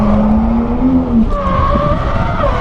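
A Toyota JZX90 drifting with its engine droning hard and tires squealing in a long, loud, close smear, the pitch climbing and sliding as the car slides.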